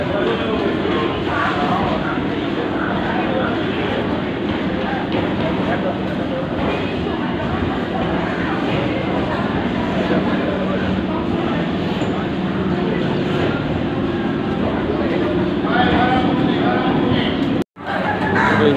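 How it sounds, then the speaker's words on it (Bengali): Inside a moving commuter train in Kolkata at night, a constant rumbling rattle of the carriage with crowd murmur and voices mixed in, steady and loud for the whole stretch. "এই উঠলাম ট্রেনে,"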